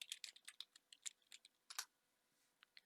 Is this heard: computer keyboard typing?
yes